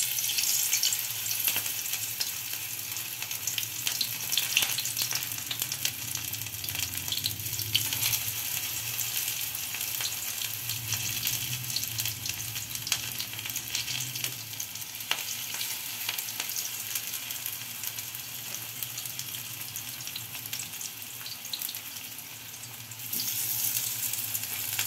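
Vegetable pakoras coated in gram flour batter fry in hot oil, a steady, close, continuous sizzle and crackle lasting throughout, with occasional soft clinks and no talking.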